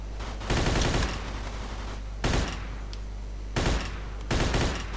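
Four loud bursts of rapid automatic gunfire in the video game Mafia 2: Jimmy's Vendetta DLC, each lasting about half a second, separated by brief lulls over a constant background hum.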